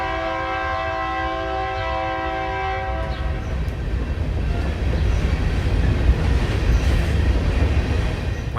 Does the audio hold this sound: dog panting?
no